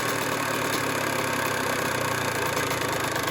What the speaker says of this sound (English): if I screw this screw in, the idle comes up.